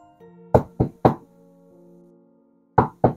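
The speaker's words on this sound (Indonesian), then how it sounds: "Suara ketukan pintu depan menghentikan langkah Randy." Knocks land on a front door in a horror-story soundtrack: three sharp raps, a pause while a low eerie drone hangs underneath, then two more loud knocks, close and distinct.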